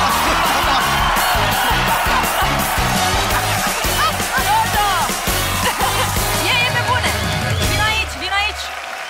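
Studio audience on a Romanian TV talent show cheering, whooping and applauding for Jojo over loud music, a dense roar of crowd noise with voices shouting throughout.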